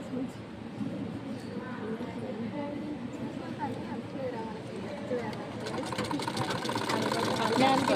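Sewing machine running while stitching, a steady mechanical whir that runs throughout under a voice talking, getting slightly louder and faster near the end.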